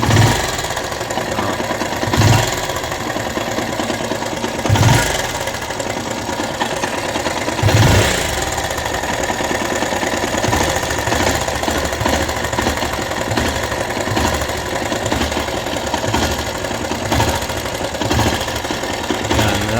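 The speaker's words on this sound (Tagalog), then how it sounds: "Pero bakit ganito kaingay ang makina nito?" A Bajaj Rouser 180 motorcycle that sat unused for a long time runs loud and rough at night, its engine noise steady and gritty throughout, with a few brief revs swelling at intervals.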